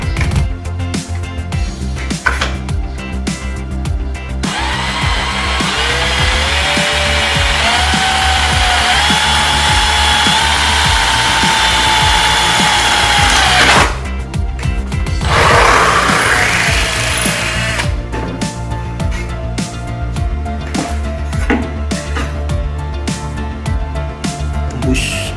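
A Black+Decker BDCHD18K cordless hammer drill, in second gear with a wood-and-metal bit, drills through a thin iron bookend in two long whining bursts. Between the bursts come shorter motor runs and clattering handling noise.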